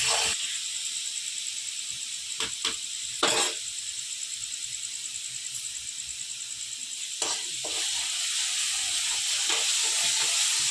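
Vegetables fry in hot oil with a steady sizzle and hiss throughout, broken now and then by brief sharper crackles and scraping bursts.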